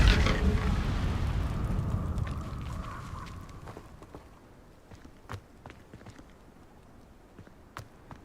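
An Incendio fire spell is cast in Hogwarts Legacy: a loud burst of roaring flame fades over a few seconds, followed by scattered light footsteps and small clatters.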